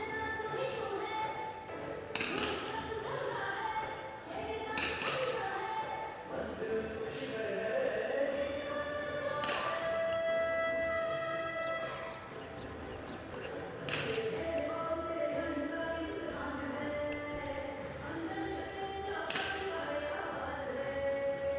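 Single 50m rifle shots from a girls' three-position shooting final at the Khelo India Youth Games 2025 crack out every few seconds, sharp and distinct over steady crowd and hall noise, with a commentator talking throughout.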